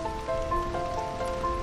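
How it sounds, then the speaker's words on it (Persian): Steady rain falls on a surface, a continuous close patter with soft drop hits and faint tonal hum beneath, no voices. "بارون، خیلی رمانتیکه."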